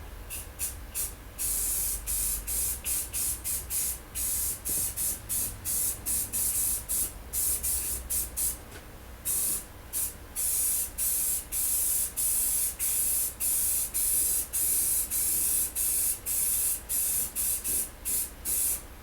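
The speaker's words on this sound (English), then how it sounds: "we'll get a light on here and we'll do a little spray" Repeated bursts of Tremclad clear gloss aerosol spray paint applied to a Case snowthrower, hissing in short and long pulses with brief gaps between them, close and steady throughout.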